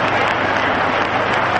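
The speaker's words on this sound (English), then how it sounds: "Crowd gives him a hand as he walks out there." A baseball crowd in 1936 at a Cardinals–Cubs game applauds steadily as the Cubs pitcher walks to the plate, a dense, even wash of clapping heard over an old radio broadcast.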